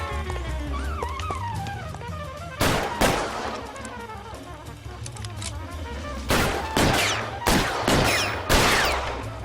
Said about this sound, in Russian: Блин, сейчас стрелять буду.